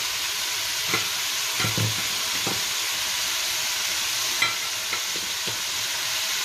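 Spices and tomato frying in a pan over a low flame for a fish curry, giving a steady close sizzle and hiss throughout, broken by a few soft stirring knocks.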